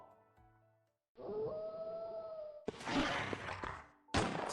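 A pack of wolves lets out a long, rising, wavering howl, close and clear. Abrupt loud, noisy bursts follow and cut across the quiet.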